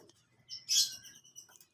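A few bright, high chirps from a pigeon close by, the loudest in the middle, with soft rustling between calls.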